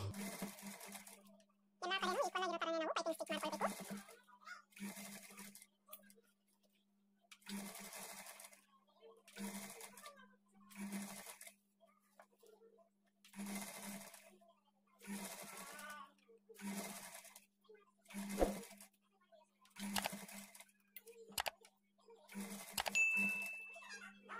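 Sewing machine making a piping stitch along a blouse edge, in repeated short buzzing runs separated by pauses, near and fairly quiet, with someone talking in between and over some runs.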